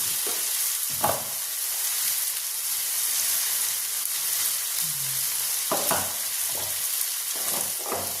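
Chicken liver for a curry, with turmeric and chili powder, is stirred in a hot pan. A constant hiss and sizzle is broken by scattered utensil knocks and scrapes.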